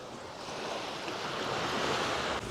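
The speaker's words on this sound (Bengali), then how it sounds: "এই হচ্ছে বাটারফ্লাই বিচ।" Waves wash continuously onto Butterfly Beach in Goa, a broad rushing surf that swells slightly louder toward the end, mixed with some wind buffeting the microphone.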